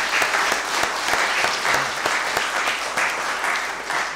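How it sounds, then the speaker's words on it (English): Church congregation applauding during an Easter service and baptism, steady clapping held at moderate level for several seconds. "I think we should give you a round of applause"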